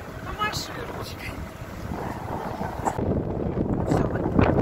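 Strong wind buffets the microphone aboard a boat on Lake Baikal near Olkhon, a broad steady roar with gusts that swell louder toward the end, mixed with water and engine noise.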